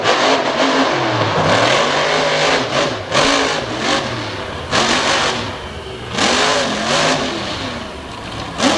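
A monster truck engine at a 2021 Renegade Round Up freestyle run, revving loudly and close in repeated rising and falling surges, several hard bursts over a few seconds.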